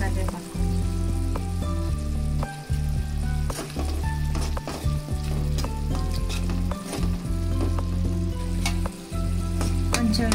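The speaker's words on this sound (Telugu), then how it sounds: "ఇప్పుడు ఎగ్స్ యాడ్ చేసుకుందాం. కొంచెం 1 రెమ్మ కరివేపాకు" Eggs and a sprig of curry leaves frying in a pan for Hyderabad-style egg curry, a loud steady sizzle with scattered spatula clicks and scrapes, with background music-like tonal sounds running throughout.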